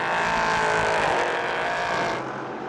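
Number 5 DKR LMP2 race car with Kenneth Heyer driving, spinning on the Portimão circuit during a 2019 race; a loud, sustained engine roar that holds steady, then drops off slightly toward the end.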